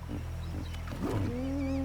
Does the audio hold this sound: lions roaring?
yes